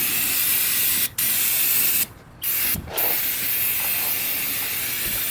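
Aerosol parts cleaner sprayed in steady hissing bursts, loud and close, broken by a few short pauses and one longer gap before the spraying resumes.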